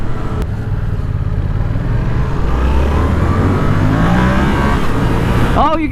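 A 2019 Yamaha XSR700 motorcycle engine accelerates with a loud, close rising drone that climbs steadily in pitch under wind noise while the bike is ridden, and a voice is briefly heard near the end.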